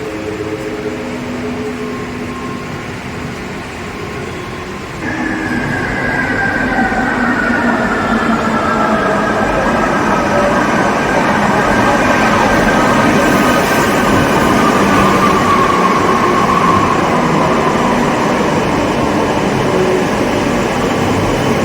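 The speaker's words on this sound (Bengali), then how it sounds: "আমরা যে ট্রেনটায় যাব সেই ট্রেনটা আসছে" A train rolls into a station platform. Its rumble swells sharply after a few seconds, and a long, high brake squeal rides over the steady, loud roar with no voices.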